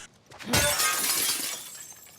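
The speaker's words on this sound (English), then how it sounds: "I honestly loved the new window smashing mechanics" In The Last of Us Part II, a window pane smashes with a sudden sharp crash, followed by a bright scattering tinkle of glass shards that fades over a second or so.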